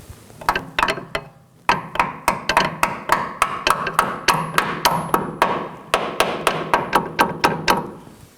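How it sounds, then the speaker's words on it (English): A hammer strikes a metal brake hose clip on a 2013-2019 Nissan Sentra repeatedly in a steady rhythm of sharp, ringing taps, close up, with a brief pause before the blows continue. "Now I'm going to strike it with a hammer until it's seated."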